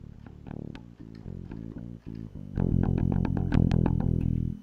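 A dry bass guitar DI channel boosted with a limiter plays a short run of plucked notes, clean and close, and gets louder and fuller partway through.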